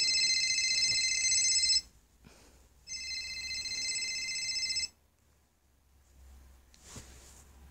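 A phone ringtone in a Five Nights at Freddy's game episode: two loud, steady electronic rings of about two and three seconds, separated by a pause, then silence and a faint brief rustle.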